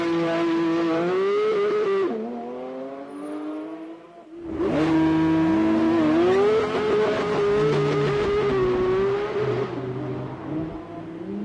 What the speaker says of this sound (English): this will sound good on Lamborghini V10. On the rev limiter